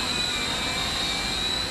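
A small Teng Mini KF609 quadcopter drone flying under voice control, giving a steady, close, high-pitched motor whine with a faint whistling tone that holds evenly throughout.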